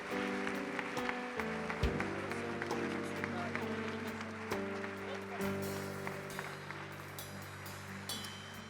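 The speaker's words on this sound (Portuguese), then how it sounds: "aplauda Jesus poderosamente" A church congregation applauds at a family worship service, steady clapping under a sustained organ or keyboard chord with sharp accents, and a voice speaking over it.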